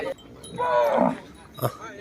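Cattle at a Thai livestock market: one loud, drawn-out moo close by, followed by a short, sharper bovine call against a quiet background.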